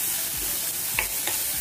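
Cumin, cloves, cardamom, cinnamon and finely chopped onion fry in hot oil with a steady, close sizzle, punctuated by a couple of brief stirring scrapes.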